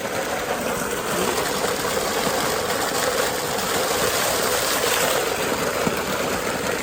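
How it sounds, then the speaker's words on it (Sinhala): Water pouring down from a waterfall at Mandaram Nuwara in Sri Lanka, a dense, even hiss and rumble that holds steady and loud throughout. "හොඳටම අර දියැලෙන් උඩ දියැලෙන් වැටෙන වතුරනේ"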